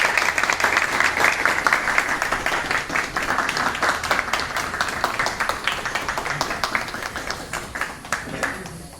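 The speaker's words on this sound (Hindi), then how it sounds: "ताली बजाओ, ताली" A group claps together in steady, dense applause throughout during a fire drill training session, with voices mixed in under the clapping.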